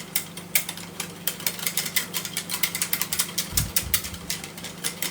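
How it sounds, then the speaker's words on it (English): A Tupperware whisk beats a corn flour mixture, giving a quick rapid series of plastic clicks and rattles. The clicking is close and steady, with a brief low thump partway through and no talk. "Then all I have to do is grab my Tupperware whisk away."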